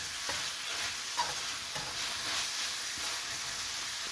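Tomatoes sizzle in hot oil with garlic and onion for a mung bean stew with sponge gourd and moringa. A steady frying hiss runs throughout, with a few soft stirring scrapes close by.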